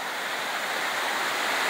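Waterfall at Warm Springs Bay, a loud, constant broadband rush of falling water with no break, heard up close.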